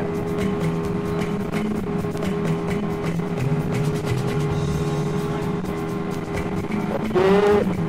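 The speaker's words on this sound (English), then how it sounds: "Our engine is going off." A motorboat engine drones steadily and loudly throughout on open water near Cotonou, with a brief higher whine rising near the end as the boat turns.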